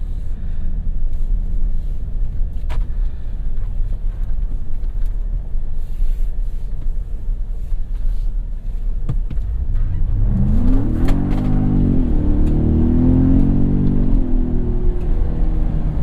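A 2017 Ford F-150 Raptor with a 10-speed automatic and traction control switched off idles with a low steady drone, then pulls away hard, its engine note climbing and stepping through quick, close-ratio gear changes, loud and near, without speech.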